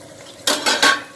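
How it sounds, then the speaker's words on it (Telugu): A metal lid comes off a pot of vegetable biryani with milmaker, giving three quick close clanks in a row over a faint background. "ఒక 5 నిమిషాలు అయిన తర్వాత మూత తీసి చూద్దాం"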